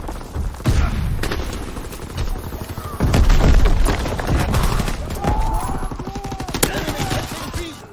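Rapid gunfire bursts and heavy booms from a Call of Duty match, including a shotgun, dense and loud throughout with faint voice chat mixed underneath.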